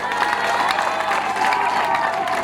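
Crowd clapping and cheering at a ceremony closing a volunteer month, as a trophy is presented; steady, dense applause with some voices mixed in, fairly loud throughout.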